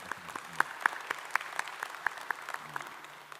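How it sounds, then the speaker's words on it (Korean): A church congregation claps sparsely during a Sunday service, with separate distinct hand claps scattered irregularly across a few seconds, faint and thin rather than a full ovation. "또한 우리 하나님께 감사의 박수 드릴까요?"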